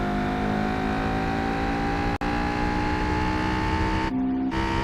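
A Honda Civic engine in Gran Turismo 4 drones steadily at a high, sustained pitch, close and loud, with a brief dropout partway through.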